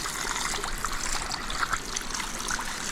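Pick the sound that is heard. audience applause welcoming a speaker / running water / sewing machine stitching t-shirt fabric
running water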